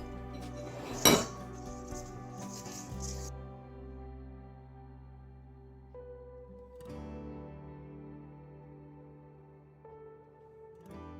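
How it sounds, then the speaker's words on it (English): A spoon stirs gluten-free, dairy-free banana bread ingredients with a splash of milk in a bowl, opening with a sharp clink against the bowl, then softer scraping and stirring under a low steady hum. "I'm going to give this a quick stir"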